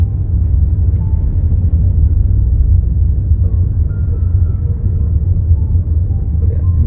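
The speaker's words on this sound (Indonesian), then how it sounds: "oh ini truk-truk besar." Deep, continuous engine rumble of big trucks driving along a ruined, mud-covered road in an industrial area, close and loud with a heavy low drone that stays steady throughout.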